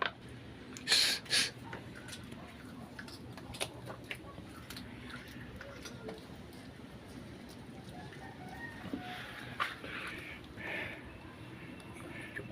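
Native chickens clucking in a rural yard, with a few sharp bird calls near the start and scattered clucks and rustling throughout, while people talk in the background.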